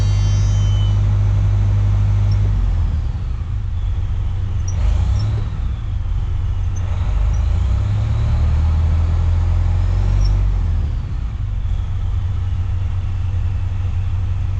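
A 24V bus engine revs while building air pressure, a deep, steady low rumble that swells and eases slightly, loud and close for the whole stretch, with no talking.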